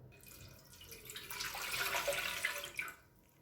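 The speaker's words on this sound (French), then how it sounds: "Donc je vais mettre les 350 ml d'eau." Water, 350 ml, pours into a bread machine pan in a short soft splashing stream that swells and tapers off over a few seconds, quiet and close.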